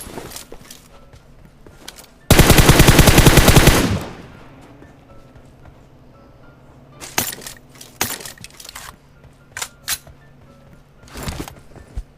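Gunfire in the mobile battle royale game PUBG Mobile: a loud sustained burst of automatic fire lasting under two seconds, followed by several sharp isolated shots and clatter with no talking.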